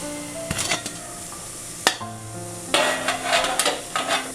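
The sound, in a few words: placing second idli plate into steamer pot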